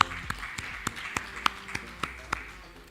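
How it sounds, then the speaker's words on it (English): A single pair of hands claps at an evenly paced rhythm, about eight distinct claps, as a real estate and investment panelist is welcomed. The claps fade gradually toward the end. "big round of applause for him"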